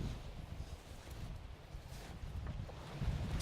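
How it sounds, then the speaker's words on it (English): Outdoor wind gusting into the microphone, a steady low rumbling buffet that swells slightly toward the end, with no other sounds or voices. "Wind."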